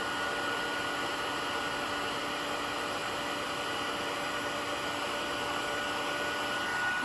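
Heat tool blowing hot air to melt embossing powder on a card, a steady, loud, unbroken whir with a faint high whine, running alone throughout.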